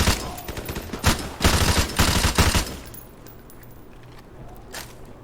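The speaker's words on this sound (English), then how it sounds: "People are actually shooting from the second floor now." In Call of Duty Modern Warfare Remastered, gunfire pours from the second floor of a building in several loud, close bursts of rapid automatic shots, then drops away to a quieter background with a few distant pops.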